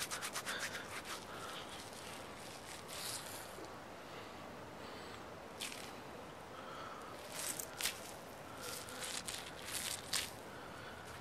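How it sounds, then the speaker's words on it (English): Wet hands rubbing and scrubbing together with lather from homemade horse chestnut soap, a soft continuous swishing with brief squishy bursts, close and quiet with no talk. "And just scrub your hands for that."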